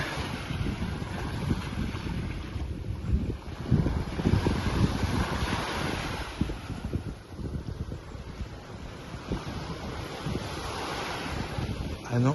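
Waves wash steadily onto a beach at Port Barton, a continuous roar of surf mixed with wind rumbling across the microphone, and faint voices occasionally audible beneath it.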